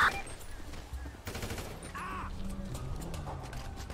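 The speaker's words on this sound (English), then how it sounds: "Shooting locals right now." Rapid bursts of video game gunfire, muffled and at middling loudness, rattle under a steady background of game noise during an escort mission.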